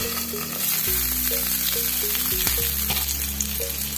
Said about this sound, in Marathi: कारली छान खमंग तळून झालेली आहे.